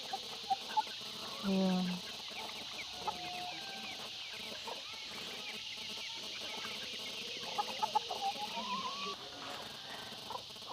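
Chickens cluck and murmur on a rural farm in the province, scattered soft calls over constant insect-like background buzz, with a brief spoken word near the start.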